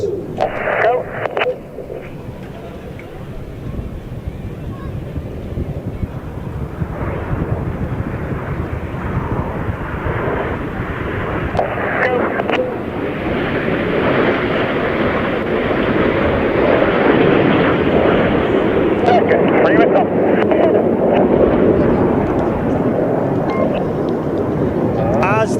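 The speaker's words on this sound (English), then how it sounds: "Each aircraft will perform a barrel roll, cross in the middle, wingtip to wingtip, only 30 metres" Red Arrows synchro pair jets flying a double barrel roll at a NATO Days and Czech Air Force Days air show, a broad roaring jet rumble that builds louder over time, with a commentator's voice speaking over it.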